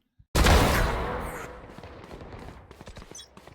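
Loud burst of automatic gunfire from a video game deathmatch, a sharp onset followed by a rapid rattling volley that decays into scattered trailing shots, with no talk over it.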